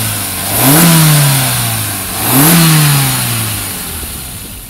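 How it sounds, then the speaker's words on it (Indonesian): A 2021 Suzuki Ignis with the 1200cc K12M engine, heard up close and alone, revs twice in succession, each rev rising sharply then easing back down toward a steady idle. "So, kita pengen dengerin suara mesin ini kayak apa?"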